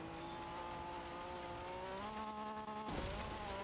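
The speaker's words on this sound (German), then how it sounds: "Ich hör einfach zweimal meinen Motorsound." Car engine in the racing video game Forza Horizon 3, a steady droning tone with rising and shifting pitch as the car accelerates, loud and continuous with no talk.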